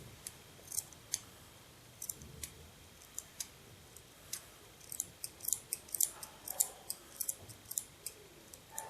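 Scissors snip through the fingers of a small woolen glove, with quiet, close, crisp clicks repeating in an irregular series that speeds up toward the end.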